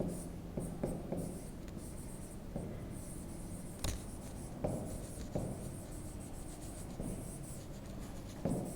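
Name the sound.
writing on a board during a class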